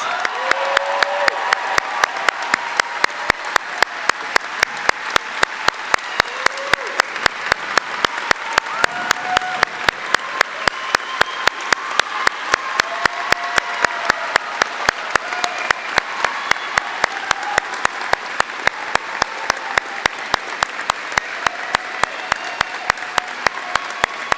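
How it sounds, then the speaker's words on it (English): Loud, sustained audience applause for honorees at a school district awards show, a broad roar of many clapping hands with some crowd noise and cheering running on evenly for over twenty seconds. "Let's give them another loud round of applause."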